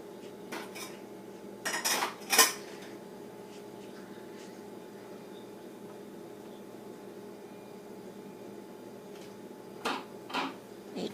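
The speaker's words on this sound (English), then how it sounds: "Do you have to clean the dishes?" Dishes, pots and cutlery clattering in a home kitchen during cooking, with a few brief clanks and clinks near the start and again near the end over a low steady background hum.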